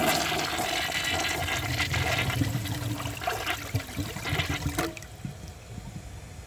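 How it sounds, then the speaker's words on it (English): A Mansfield Alto comfort-height toilet flushes with a dish towel in the bowl and clogs at the end: a loud, steady rush of water for about five seconds that cuts off abruptly, leaving a faint trickle and gurgle. "it's going to take it right as the flush starts"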